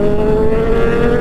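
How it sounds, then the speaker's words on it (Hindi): Motorbikes on a group ride in traffic rev their engines, a loud, close, steady engine drone held briefly. "थोड़ी स्पीड बढ़ाते हैं, थोड़ा रेव करते हैं"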